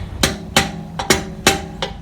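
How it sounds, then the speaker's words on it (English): Sharp metallic hammer strikes ring out in a steady rhythm, some in quick pairs, close and loud with short ringing decay, while removing old bushings from a Nissan 240SX. "let's see if I can get some more hammering and"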